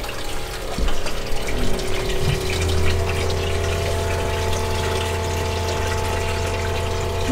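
A 12-volt fresh water pump in a converted school bus hums steadily while pushing water through to the shower, its constant motor drone sitting under the gushing flow of water for the whole stretch.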